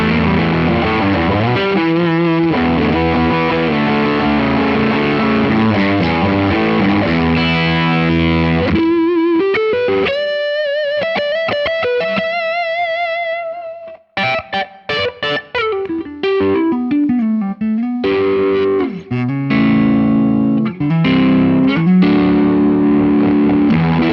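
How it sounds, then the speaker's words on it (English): An electric guitar runs through an FM9's Colour Sound booster overdrive model, with harsh, fuzzy distorted chords and single-note lines and a sliding bend midway, loud and up close with no talking. "I like this color tone OD model because it sounds pretty nasty."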